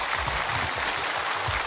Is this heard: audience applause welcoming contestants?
yes